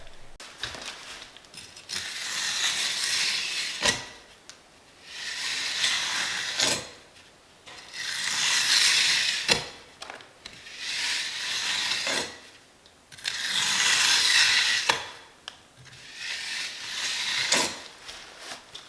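A steel trowel scrapes and smooths a drying concrete countertop in about six steady, rasping strokes that swell and fade in a regular rhythm, close and loud with no talk.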